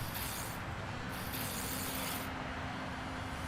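Spray painting in the Sam & Max Save the World video game: a steady, close, broadband aerosol hiss that runs unbroken for several seconds, with no talk over it.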